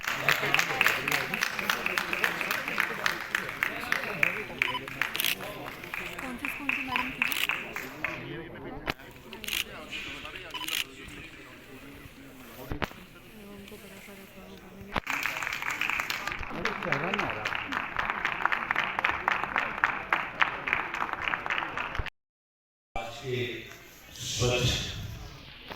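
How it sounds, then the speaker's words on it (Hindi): Audience applause honours Ravi Bhatia at a civic ceremony recognising people who help keep the city clean, a steady dense clapping that runs for long stretches beneath an announcer's amplified voice, with a brief silent gap near the end. "एक बार जोरदार तालियां रवि भाटिया जी के लिए"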